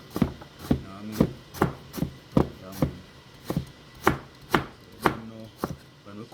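Vegetables and garden seasoning are chopped for a Jamaican Sunday dinner, with about fourteen crisp, evenly spaced knife strikes on a board. The chopping is close and clear with no talking.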